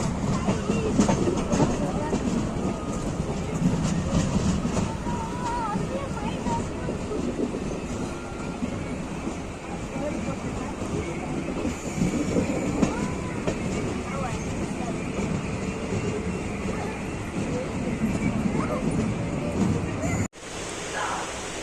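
The Brindavan Express, an Indian passenger train, rumbles at Katpadi Junction with a steady dense roar of wheels and carriages, close and continuous for about twenty seconds before cutting off briefly near the end.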